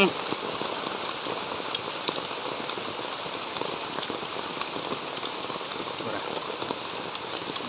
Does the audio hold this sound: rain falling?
yes